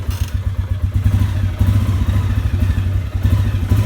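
A small, cold Polaris ATV engine fitted with a snow plow idles nearby with a steady, low, lumpy chug and a faint rattle, loud and continuous.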